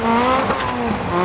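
In the DiRT Rally video game, a rally car's engine howls loud and close as its pitch shifts between gears, with brief tyre squeal and skidding mixed in.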